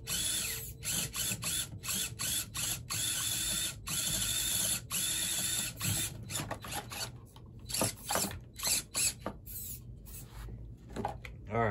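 An RC rock crawler, an FMS Lemur or Axial AX24, spins its wheels with a whirring, ratcheting gear and motor buzz in rapid stuttering bursts, close and moderately loud, with some talk mixed in.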